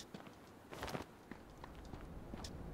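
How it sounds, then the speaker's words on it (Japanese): Footsteps in the H1Z1 battle royale video game, a series of soft crunching steps with a brief louder cluster in the middle, quiet and fairly close, with no one talking. "足音が結構でかいみたいだから警戒しようか"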